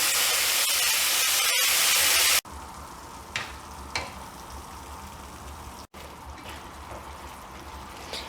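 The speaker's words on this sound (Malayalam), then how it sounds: "ഈ സമയത്ത് ഇതിലേക്ക് കുറച്ച് തിളച്ച വെള്ളം ഒഴിച്ച് കൊടുക്കാം" Boiling water is poured into a pan of frying chicken masala for kondattam, opening with a loud hissing burst. The sizzle then quietens to a softer simmer with a few light clinks of stirring.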